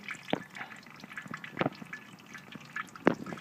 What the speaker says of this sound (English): There's going to be a little fluid coming out, so I'll let that drain off a little bit.